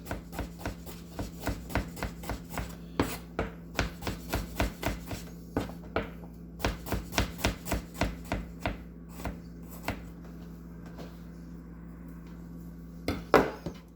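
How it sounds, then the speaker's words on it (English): A knife slices garlic on a cutting board in a steady rhythm of crisp close taps, about two per second, continuing with brief pauses for several seconds. "So I'm just gonna slice that garlic."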